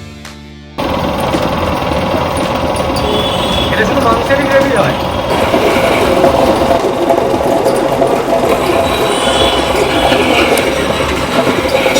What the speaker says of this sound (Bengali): তোমাদেরকে এমন একটা মেশিন দেখাবো যেখানে মাছ মাংসের জন্য যে গ্রেভিটা বানানো হয় তার মশলাটা কিভাবে তৈরি করছেন ওনারা